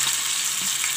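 Garlic and tomato frying in a pan, giving a steady, close hiss of sizzling oil throughout.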